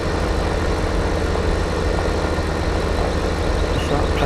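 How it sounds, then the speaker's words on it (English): Tractor pulling a plough in Farming Simulator 15, a constant loud low engine drone with a steady churning rumble and no breaks. "just that plough doing its bit."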